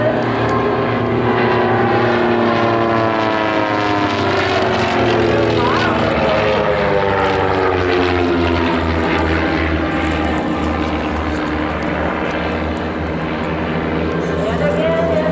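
Alpha Flight aerobatic propeller planes pass overhead at an EAA airshow, a loud sustained engine drone that rises and shifts in pitch as they fly by, with an announcer talking over it.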